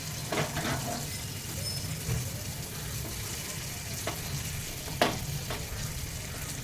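Dried fenugreek leaves frying in hot butter for street-style pav bhaji, a steady low sizzle throughout with a few brief stirring clatters, no voices.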